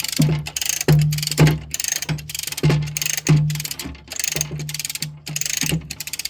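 A hand ratchet cranks in repeated bursts of quick, close clicking during a skid steer track replacement, with short pauses between strokes and no talking.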